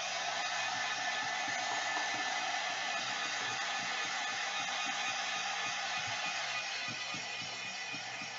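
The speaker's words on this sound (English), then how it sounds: "Now I'm going to dry this, and it'll only just take a second." A hair dryer blows steadily on a freshly painted watercolor balloon painting, a loud, close, unbroken rushing hiss that lasts throughout with no talking.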